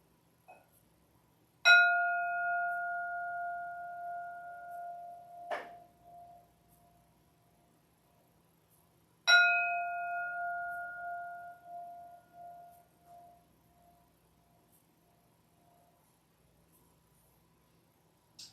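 A meditation bell is struck twice, about eight seconds apart, each clear ringing tone sustaining and slowly fading into quiet.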